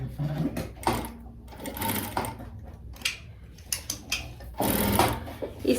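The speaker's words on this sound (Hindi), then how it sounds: "जो हिस्सा मेरे को ऊपर चाहिए उसको इस तरह सिलाई लगा लेती हूँ।" A sewing machine stitches a sari border onto stiff buckram, its motor whirring in short bursts with pauses between runs, close and fairly loud with no talking.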